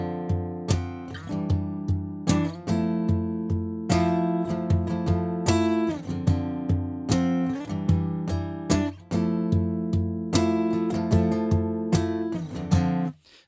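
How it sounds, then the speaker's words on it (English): Jazz guitar chords strummed in a steady rhythm, with a punchy kick and snare added underneath, forming a continuous groove that stays loud and close with no talking. "And what we're going to do is add in a kick and a snare to it. So now it sounds like this."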